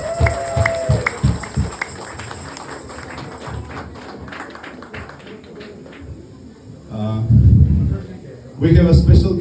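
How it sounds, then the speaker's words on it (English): Guests at an embassy masquerade ball applaud, a crowd clapping that starts sparse under lingering talk and swells into two loud, close bursts near the end. "So I would kindly ask you to join me in an applause for him"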